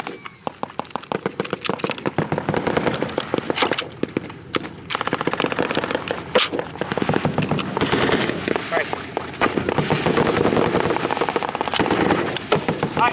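Machine gun firing at a WW2 reenactment in Zephyr Hills, Florida, with rapid sustained bursts of loud close gunfire rattling across most of the stretch and only brief pauses between bursts, while people shout over it.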